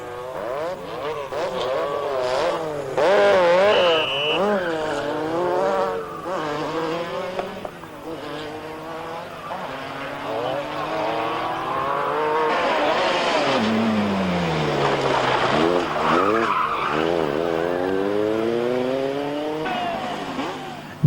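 Rally cars racing at the 1986 24 Hours of Ypres, engines revving up and down through gear changes as cars pass near and far, with occasional tire squeal and a continuous blend of motors throughout.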